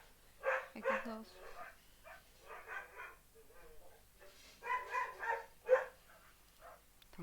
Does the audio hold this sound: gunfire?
no